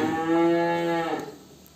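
Simmental cattle at a cattle market: one loud, drawn-out moo from nearby that holds steady for about a second, then fades away.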